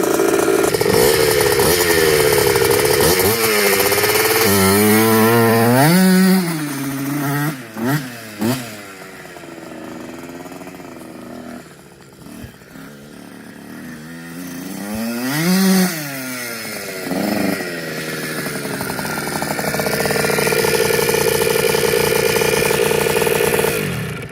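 A Kawasaki KX 65 dirt bike with an FMF Turbinecore 2 exhaust buzzes loudly up close, revving up and down several times with rising and falling pitch before settling into a rough idle.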